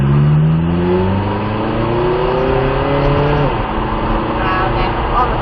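McLaren 570S accelerating hard around a circuit, a loud close engine note rising steadily through the revs, with a brief dip at a gear change before climbing again, no talking.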